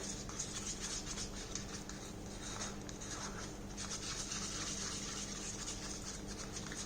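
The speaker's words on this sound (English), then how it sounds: "as you know, a lot of stirring is required" Fluid acrylic paint being stirred steadily in a container, a continuous soft wet swishing and scraping that carries on without pause and with no talking.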